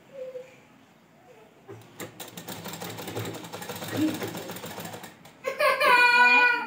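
Sewing machine stitching piping onto the belt of a Gujarati Rabari ghaghra, a fairly loud steady mechanical run filling the middle of the clip, preceded by a quiet stretch and followed by a short burst of higher sound.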